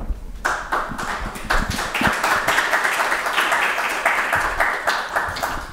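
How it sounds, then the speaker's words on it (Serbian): An audience at a public panel on contemporary Serbian culture applauds after an introductory speech: dense, steady clapping from many hands that sets in sharply and carries on loudly throughout. "Svakako ova lepa uvodna reč i zaslužuje aplauz"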